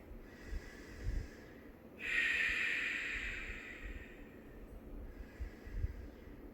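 Slow, deep breaths drawn during a yoga backbend pose: a soft inhale, then a long, fuller exhale swelling for a couple of seconds, followed by a quieter breath, close and intimate with no talking.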